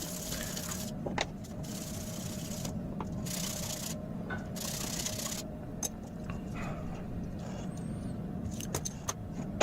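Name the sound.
sanding untreated mild steel for knife blade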